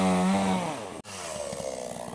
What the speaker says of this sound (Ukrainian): Все, бензопила пішла в рух.